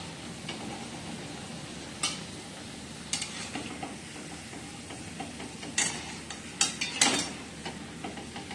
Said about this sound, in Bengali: এইভাবে আমি সবগুলো ভেজে নিচ্ছি।